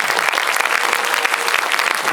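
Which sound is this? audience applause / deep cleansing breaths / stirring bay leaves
audience applause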